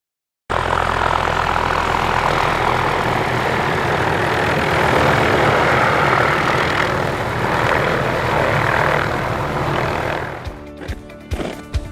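Steady, loud rotor-and-engine drone of an aircraft flying close by, a continuous roar that cuts off near the end leaving scattered clatter.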